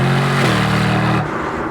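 Aston Martin DB12 Volante engine, loud and close, a strong rev that holds and then shifts pitch before dropping away, with no talk over it.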